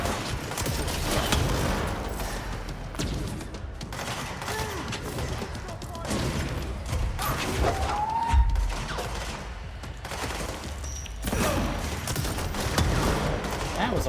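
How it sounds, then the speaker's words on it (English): Many grenades explode in a video game, a dense, continuous barrage of overlapping booms and crackling debris that stays loud throughout, with a voice occasionally speaking over it. "That was a lot of grenades."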